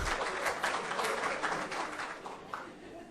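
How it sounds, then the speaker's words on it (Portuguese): Partial, hesitant applause from a lecture audience: a dense patter of clapping that starts fairly full and gradually thins and fades, with a few last isolated claps. "Palmas parciais, ainda acanhadas, regidas pelo medo."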